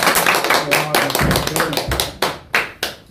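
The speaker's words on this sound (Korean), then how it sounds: "박수 한번 보내주시죠" A small audience at a talk claps loosely and unevenly, with scattered, uneven claps and separate sharp hits that thin out toward the end.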